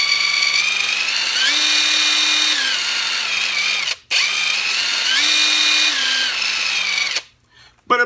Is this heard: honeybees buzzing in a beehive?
no